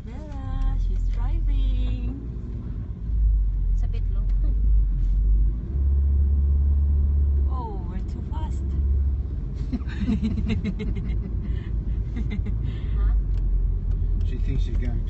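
Interior of a moving car on a first drive with a learner at the wheel, steady low engine and road rumble throughout, with voices talking over it.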